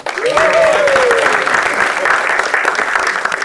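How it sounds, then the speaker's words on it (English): Studio audience applause at a live evening broadcast-style event, a steady burst of many hands clapping with a speaking voice cutting in over it early on. "give us a bit of a studio audience feel"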